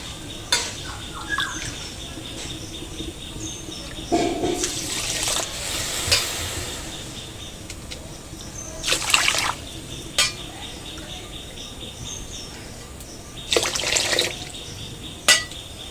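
Water pours in intermittent bursts into a pot of sugar to make syrup for palm-fruit langcha sweets, a few splashing gushes separated by quieter gaps in a home kitchen.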